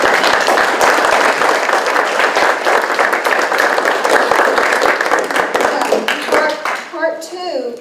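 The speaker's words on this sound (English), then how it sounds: "give them a round of applause" An audience at a healthcare seminar gives a loud, sustained round of applause with crisp individual claps close by, then it tapers off and a voice starts talking.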